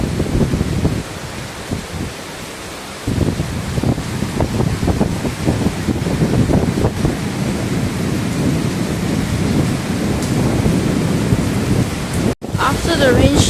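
Heavy rain pours at the Dragon Tiger Pagodas in Kaohsiung, Taiwan, a steady loud hiss with low thunder rumbling through and gusts of wind buffeting the microphone.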